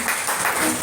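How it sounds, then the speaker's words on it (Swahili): Applause for new believers and new members graduating at a church course ceremony, a brief dense burst of many hands clapping together in a hall. "hawa wengine tunawapigia makofi."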